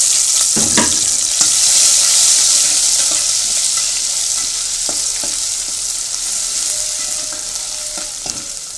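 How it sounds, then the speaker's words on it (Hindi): Loud, steady sizzling of garlic ginger paste frying in hot oil, with occasional stirring scrapes and clinks; no talking. "अब इसमें लहसुन अदरक का पेस्ट डाल दूँगी"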